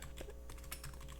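Quiet computer keyboard typing during a Korean stock-investment talk, a fast uneven run of light clicking keystrokes, close but faint against a low hum, with no speech.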